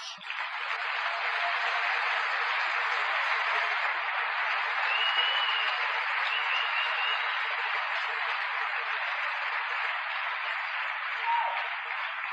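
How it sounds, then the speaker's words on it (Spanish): A church congregation claps during a sermon, a steady, even wash of applause heard from a distance with a thin, muffled tone and no voices over it. "Le damos un aplauso."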